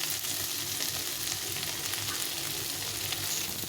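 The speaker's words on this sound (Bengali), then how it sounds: "আলুটাকে একটু ভেজে নিলাম।" Mashed boiled potato frying for chickpea chaat, a steady close sizzle that holds evenly throughout with faint stirring scrapes underneath and no voices.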